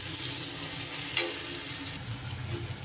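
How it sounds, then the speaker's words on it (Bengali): Onions sizzling steadily in a hot pan for a Bengali green tomato dish, a soft continuous frying hiss with one brief clink of a utensil partway through, no talking. "পেঁয়াজটা কিন্তু আমার সুন্দর করে বেশ ভাজা ভাজা হয়ে গেছে"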